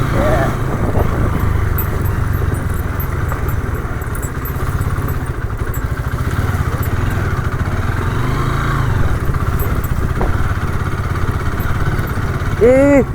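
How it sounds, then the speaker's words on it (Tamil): An off-road vehicle engine labours steadily in third gear while climbing a private hill road during a Valparai trip, with people talking and exclaiming over the continuous, rough, clattering drone. "தேர்ட் கியர்ல ஏற்றுங்கிறலாம் அழகா அவ்வளோ அழகாக ஏறுவாங்க வண்டி"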